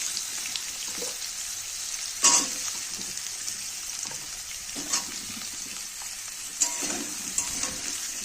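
Sliced potatoes and onions frying in oil, giving a steady low sizzle with occasional louder scrapes and clinks as they are stirred, close by and moderately quiet.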